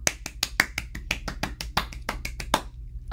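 Children clap together at story time, a quick run of about twenty sharp, crisp claps in a fairly even rhythm, close and clear with no voices.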